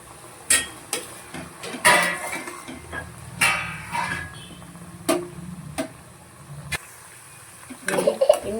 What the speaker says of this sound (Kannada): ಇನ್ನು ಫ್ರೈ ಆಗಕ್ಕಿದೆ ಅಲೋವೆರಾ